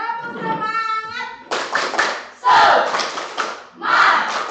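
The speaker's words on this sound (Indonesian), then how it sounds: "Kita tepuk semangat terlebih dahulu." A classroom of children does a rhythmic clapping chant in an Indonesian science lesson, a teacher's voice leading before bursts of group claps and shouted chanting from the class, loud and close, in several short phrases.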